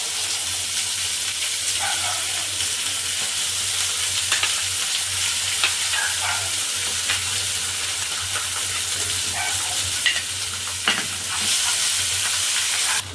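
Ground spice paste frying in oil for an egg, squash and potato dish, a loud continuous hiss and sizzle with occasional spatula scrapes as it is stirred, close and steady with no voices.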